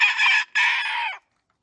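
Chickens in a backyard coop give two loud, sustained calls close by, each about half a second long, separated by a short gap, then the coop falls silent.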